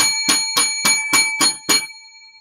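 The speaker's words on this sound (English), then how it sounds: "7 lucky bells for this show." Seven evenly spaced bell rings, loud and bright, sounding one after another at steady half-second intervals and then stopping, with no voices.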